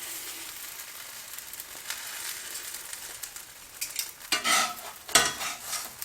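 Pita bread cooks in olive oil in a pan, giving a soft continuous sizzle, then louder scraping and handling sounds in the last couple of seconds.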